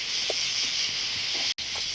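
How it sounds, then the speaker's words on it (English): Tree frogs call in dark woods at night along Clinton Road, a steady high-pitched chorus droning continuously with faint rustles beneath and a momentary dropout near the end. "You can hear a lot of frogs, tree frogs."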